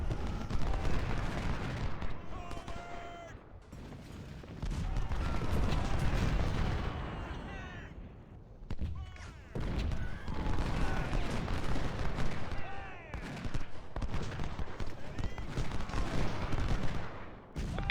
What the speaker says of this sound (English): Just gotta make sure the snipers keep firing.